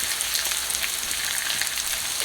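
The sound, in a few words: onions simmering in a pan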